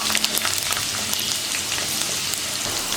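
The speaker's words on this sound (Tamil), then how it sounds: "பூண்டு நல்லா வதங்கிடுச்சு" Garlic sautéing in oil in a pan after mustard seeds have popped, a close, loud, continuous sizzle with scattered crackles and pops throughout.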